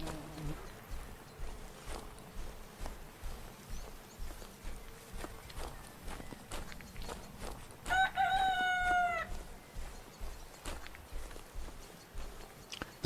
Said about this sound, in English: There's a rooster up there somewhere.